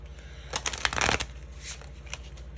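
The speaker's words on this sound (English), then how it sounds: "That was a struggle shuffle" A deck of tarot cards shuffled by hand in a quick burst of soft papery flicks and riffles, close up, then a few scattered card taps as it settles, no talk.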